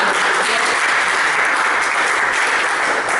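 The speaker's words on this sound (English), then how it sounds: "If we could give Steven a round of applause." An audience gives a round of applause, steady and close, a dense wash of clapping that holds level for the whole few seconds.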